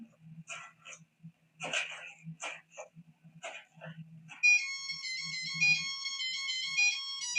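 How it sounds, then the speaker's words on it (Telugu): A mobile phone ringtone from the Telugu film Venky, a song tune, plays as a bright, steady electronic melody for the last three seconds. Before it come scattered short bursts of sound. The level is fairly quiet throughout. "ఏంటి రింగ్ టోన్ సార్?"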